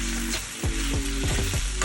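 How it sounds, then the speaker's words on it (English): Marinated beef stir-fries in a hot pan for a beef and broccoli dish. A loud, close sizzle runs throughout, broken by several sharp scraping strokes of a spatula as the meat is tossed. No one speaks. "So you want to stir fry your meat"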